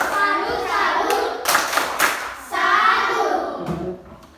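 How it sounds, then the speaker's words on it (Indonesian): Third-grade schoolchildren in a classroom clap their hands in quick bursts of rapid claps with short pauses between, while children's voices chatter alongside. "Tepuk tangan, kita tepuk salut."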